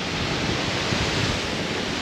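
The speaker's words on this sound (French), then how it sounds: "C'est un truc de fou, il y a un vent de malade" Strong wind roars steadily, a loud broad whoosh buffeting close by with no pauses or voices.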